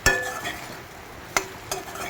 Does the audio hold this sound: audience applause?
no